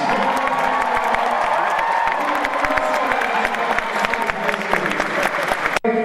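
Loud, dense applause from a large convention crowd at Anthrocon 2016, with scattered cheers and whoops woven through, sustained for about six seconds before cutting off abruptly.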